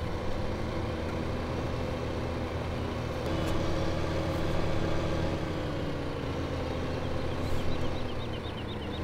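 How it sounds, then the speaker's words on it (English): Combine harvester running in Farming Simulator 2015, a steady low droning engine hum with a faint mechanical whir, constant and moderately quiet with no talk. "Combine is still going"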